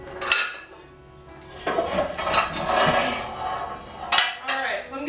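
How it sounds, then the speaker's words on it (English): Heavy cast iron skillets clank and scrape as they are handled on a kitchen stovetop and one is swapped for a smaller pan, with metallic knocks and rattles, close and fairly loud. "I'm going to use a smaller skillet"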